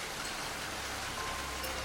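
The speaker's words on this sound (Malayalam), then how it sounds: "സ്റ്റൈലൻ മഴ" Steady rain falling at a bus stop, a dense, even hiss of drops on surfaces that holds constant for the whole stretch with no voices.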